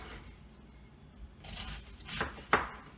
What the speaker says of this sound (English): And then I'll kind of do a little chop action at the end.